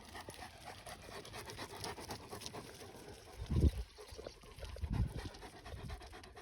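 Several dogs, including a black dog and a blue merle, pant softly as they come closer during an outdoor walk home, with steady breathy panting and a couple of louder snuffling bursts over a faint, hissy background.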